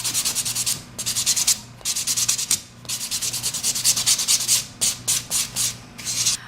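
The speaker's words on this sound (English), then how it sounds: "I'm going to go to your 180 side, gently buff." Acrylic nail buffed with the 180-grit side of a nail file: repeated short bursts of dry, scratchy rubbing in a steady back-and-forth rhythm, close and fairly loud, with brief pauses between strokes and no talking.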